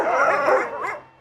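Roaming street dogs near a slaughterhouse in the Dagoretti area of Nairobi, one close, loud burst of barking and yelping that quickly fades.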